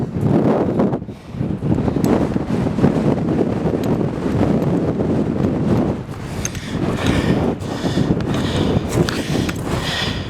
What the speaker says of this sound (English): I'm going up this volcano. It is windy as heck.